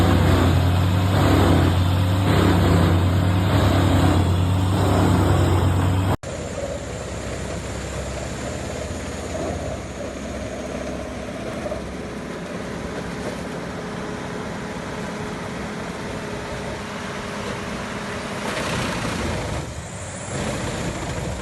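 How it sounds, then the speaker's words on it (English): Wood chipper working on eucalyptus logs beside a workshop in dry Australian bush: a heavy engine roar loud at first, then a lower steady mechanical rumble with occasional swells, no talking. "The wood chipper is hard at work beside a workshop"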